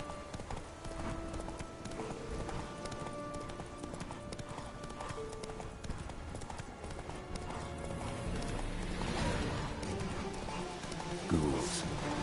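Roach the horse galloping in The Witcher video game, rhythmic clip-clop of hooves running steadily at close range, with spoken voices and game sounds mixed in.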